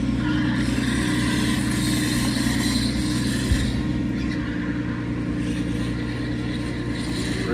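A BMW car being driven, with steady low engine rumble and road noise holding at an even level throughout, close and loud, with no speech.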